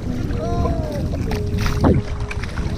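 A kayak paddling on Kayangan Lake: close paddle strokes and water swishing over a steady wind-buffeted outdoor background, with one louder splash near the end.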